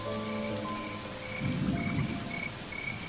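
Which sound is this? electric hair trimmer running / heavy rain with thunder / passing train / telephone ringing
heavy rain with thunder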